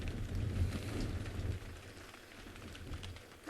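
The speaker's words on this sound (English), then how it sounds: "rain and darkness." Steady rain falls on surfaces outdoors at night in an African game reserve, a dense even hiss throughout, slightly heavier in the first second and a half.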